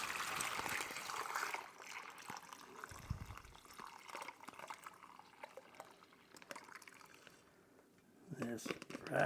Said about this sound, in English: My brine has cooled down totally, and I'm just going to fill this up.